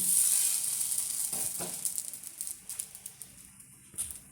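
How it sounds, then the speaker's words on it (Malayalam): An egg-dipped maida-battered sandwich sizzles on a hot griddle stone, a bright continuous frying hiss with soft crackles and pops, fading into intermittent spits toward the end, with no speech. "ഇനി നമ്മൾ കല്ല് ചൂടായിട്ടുണ്ട് ഇതിലോട്ട് വെച്ച് കൊടുക്കുകയാണ്"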